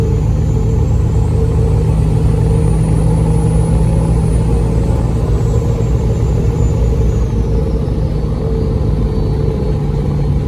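A 2003 Ford truck with a 7.3 diesel engine cruises at freeway speed, its deep engine drone and road roar loud and constant from inside the cab throughout, with no voices.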